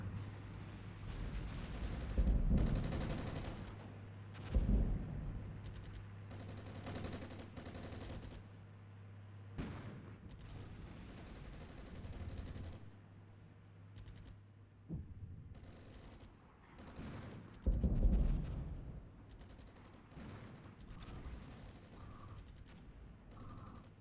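Artillery firing for effect in the war game Armored Brigade: several heavy, booming blasts and rumbling impacts arrive in irregular bursts, with quieter crackling gunfire between them and no talk.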